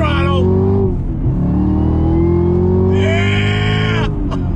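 A Chevy Camaro ZL1 1LE accelerating hard on throttle, its engine roaring loud and close with a steadily rising drone that holds through a gear change.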